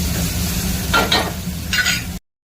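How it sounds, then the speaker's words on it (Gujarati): Tomatoes are stirred with a spoon in a hot pan while making a sandwich filling, with a few quick scraping strokes over a steady, close sizzle. "ટમેટા એડ કરીને થોડુંક મિક્સ કરી લઈએ."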